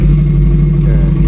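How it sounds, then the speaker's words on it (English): A car engine runs loud and close, a steady low rumble with a slight rise in revs near the end, heard alone without talk. "And then turn the car on."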